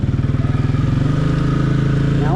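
A 2024 Can-Am Outlander Pro HD7 ATV accelerates hard in sport mode and high range, its engine loud and close with a steady rising drone and a rapid pulsing rhythm, no talk over it.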